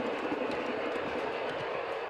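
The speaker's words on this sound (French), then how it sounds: "c'est au son des locomotives que les visiteurs débutent un voyage à ciel ouvert" A tourist train hauled by locomotives on rails in Ardèche, a steady loud rumble of wheels and running gear with faint rhythmic clatter, continuous and close.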